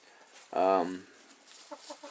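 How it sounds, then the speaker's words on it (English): A single loud rooster call bursts out briefly at a winter chicken coop, followed by a few soft, short clucks fading into quiet background. "Our rooster over here"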